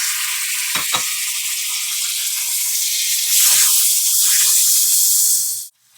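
Two long-sliced tomatoes with crushed chili sautéing in a hot pan for a potato eggplant dish, a loud continuous sizzle with a few spoon scrapes, swelling brighter midway before cutting off abruptly near the end.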